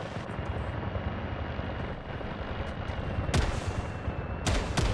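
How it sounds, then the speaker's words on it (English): Machine gun fire in the video game Delta Force, a dense, continuous rattle of rapid shots with heavier bursts near the end, set against a steady mechanical drone like rotor noise. "But it also shows us the range of this machine gun."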